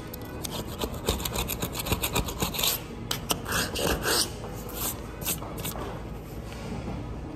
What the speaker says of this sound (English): It just slices those clips in half.